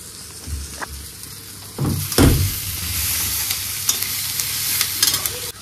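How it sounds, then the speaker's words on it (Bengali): Onions fry in a pan with a steady sizzle, with a few louder scrapes and clatters of stirring near the start, all close by with no voices. "পেঁয়াজ ভাজা চলছে"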